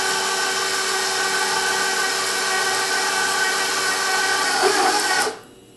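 A stand mixer with its paddle attachment runs on its lowest speed, mixing coarse hot cross bun dough in a loud, steady motor whine that cuts off near the end.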